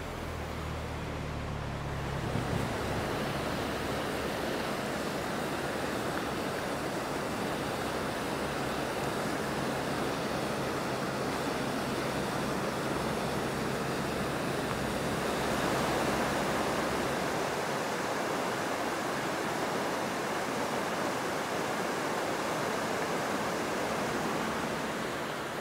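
River in Lauterbrunnen, Switzerland, rushing as a continuous broadband roar, close and steady, with no voices over it.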